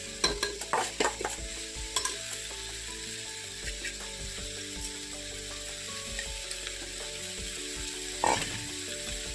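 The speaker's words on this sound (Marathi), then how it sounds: "मिक्स डाळी हे तांदूळ भिजवून घेतले ते घालते" Soaked mixed lentils and rice tipped into a hot pan and stirred, a few sharp clatters and a spoon scraping, then a soft steady sizzle with occasional stirring knocks, close and fairly quiet.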